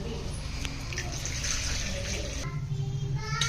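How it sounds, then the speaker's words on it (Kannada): Water is poured into a pan of curry and ground masala at home, making a continuous splashing gush close by that shifts tone partway through, with faint voices in the background. "ಇದಕ್ಕೆ ಒಂದು ಸ್ವಲ್ಪ ನೀರು ಮಿಕ್ಸ್ ಮಾಡಿ ಹಾಕೋದು."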